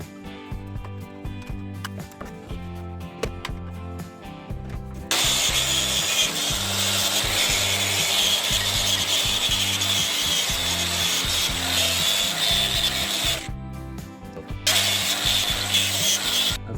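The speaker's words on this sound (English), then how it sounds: "That's the only thing about using a wire wheel." A wire wheel scrubs the surfaces of an engine thermostat housing from a 1980 Dodge Power Wagon, producing a harsh, continuous, close abrasive grinding with a rhythmic motor undertone that briefly cuts out and then resumes.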